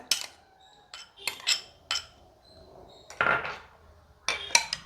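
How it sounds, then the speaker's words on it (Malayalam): A spoon clinks and scrapes in a bowl while tomato sauce, chilli sauce and mayonnaise are mixed, in several short, separate bursts of clatter with quiet gaps between them. "ഇതെല്ലാം കൂടി ഒന്ന് മിക്സ് ചെയ്യാം"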